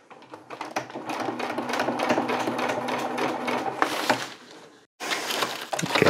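A sewing machine runs a long seam on a lightweight 9oz tarp, a steady mechanical stitching rattle at close range for several seconds, then a brief pause before the machine starts again.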